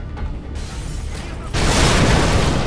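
A grenade goes off in a Call of Duty Modern Warfare 2 gulag prison cellblock fight, a sudden loud burst that shifts a mechanical background into a dense, sustained roar of debris and noise.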